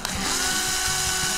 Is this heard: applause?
no